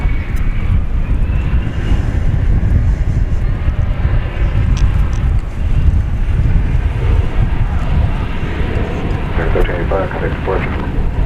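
An airplane takes off from runway 18 Left at DFW Airport, a loud, steady jet roar with heavy wind buffeting on the microphone. It holds close and constant across the whole stretch.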